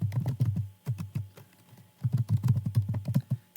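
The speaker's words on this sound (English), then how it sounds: "Now here you need to type in your username or your email address." Fingers tap out a username on a computer keyboard in quick, uneven bursts of close, soft key clicks, with a short pause midway before another rapid flurry.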